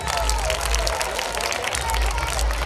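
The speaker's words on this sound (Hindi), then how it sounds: "जोरदार तालियां दीदी के लिए।" A crowd at a school annual function claps steadily in a dense, continuous burst of applause for a prize winner, with some voices mixed in the background.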